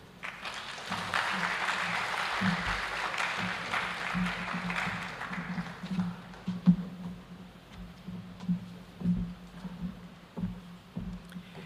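An audience claps after a lecture on leadership and governance at an Africa Day event, a broad, steady wash of applause that thins out while a voice speaks over it.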